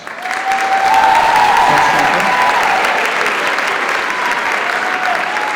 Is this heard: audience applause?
yes